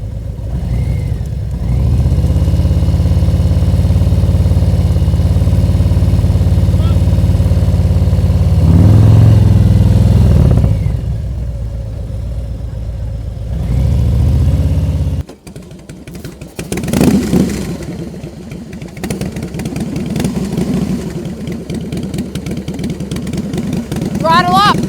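Motorcycle engine revving in bursts during cool-weather riding practice, a steady near idle rising into throttle blips, with the engine note shifting and dropping midway through.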